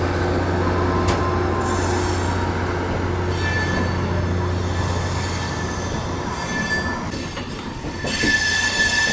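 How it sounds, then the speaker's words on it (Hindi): An Amrit Bharat Express passes the Seemanchal Express near Tundla Junction, a loud, continuous rumble of rail cars with squealing wheels and a steady hum throughout. "crossing with Seemanchal express Anandgarh Jogbani"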